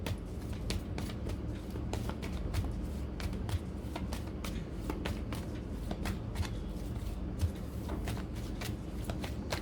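Tarot cards are shuffled and handled continuously, with a steady run of crisp riffling clicks and snaps, close and fairly quiet, with no talking.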